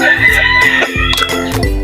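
A rooster crows loudly nearby while chickens cluck around it in short, sharp, overlapping calls.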